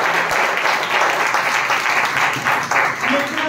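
A church audience claps steadily throughout, dense sustained applause at a sermon, loud and close, with a voice faintly under it.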